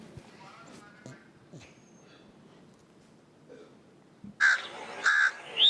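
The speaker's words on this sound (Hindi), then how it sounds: "कौवा, ये है एक कौवा" A crow caws three times, loud and harsh, in quick succession near the end. Before the caws, quiet scattered sounds and faint voices from a children's quiz show.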